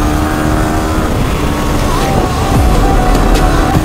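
Apache 160 motorcycle overtaking on a road alongside other traffic, a steady loud engine and road roar close by with a brief passing swell near the end.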